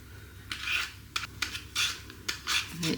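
A vegetable peeler scrapes along raw potatoes in short, close, rasping strokes, about six evenly spaced scratchy swipes with brief pauses between them.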